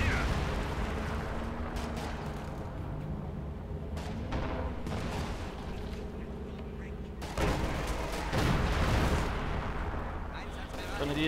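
In a Company of Heroes 2 match, an artillery shell crashes into infantry with a heavy blast amid scattered distant battlefield booms and rumble, while a commentator talks over the action.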